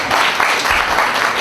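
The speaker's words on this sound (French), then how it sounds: "Je vous demande d'applaudir" Brief, loud burst of audience applause at a development briefing in Haiti, dense and steady throughout with no speech.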